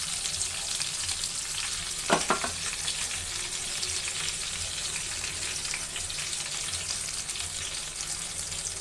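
Pangas fish frying in a generous amount of oil, giving a loud, continuous, dense sizzle with a brief scraping stir near the start.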